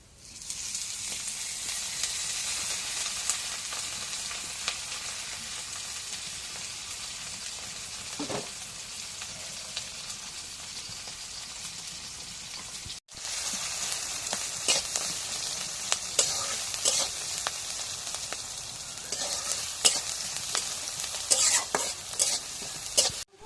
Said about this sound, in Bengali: এখন কড়াই সরষের তেল দিয়ে দিই।